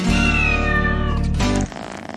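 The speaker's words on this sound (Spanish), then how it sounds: "Miau, miau, miau, yo tengo un gato" A cat meows loudly and close in one long, drawn-out, tonal call that wavers and then breaks off into a rougher, lower tail, heard alone.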